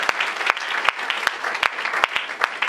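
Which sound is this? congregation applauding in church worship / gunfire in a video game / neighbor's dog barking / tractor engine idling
congregation applauding in church worship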